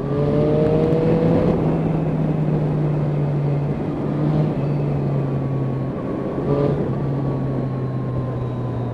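Steady drone of a Yamaha Tracer or Honda Crossrunner motorcycle engine while riding, humming at a constant pitch with wind rush, shifting slightly in tone a couple of times.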